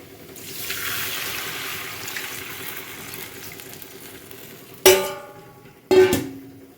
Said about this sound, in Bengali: তো একটু জল দেব।